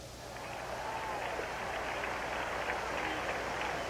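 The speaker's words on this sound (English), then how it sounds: "Initial reaction from the crowd anyway that it's against Cincinnati." A stadium crowd at a 1980 NFL game between the Cincinnati Bengals and Green Bay Packers reacts to a play with a broad, distant roar and scattered cheering that swells early and holds steady.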